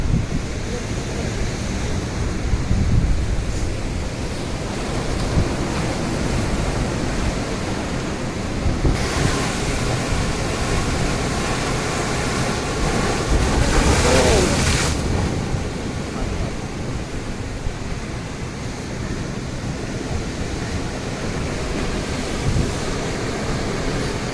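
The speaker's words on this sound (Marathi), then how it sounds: "लाटा मोठी आहे बघा मित्रांनो" Big ocean waves surge and crash continuously at Rajkot Point, Malvan, near Sindhudurg Fort, with gusts of wind buffeting the microphone and a louder rush of surf midway.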